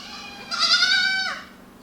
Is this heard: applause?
no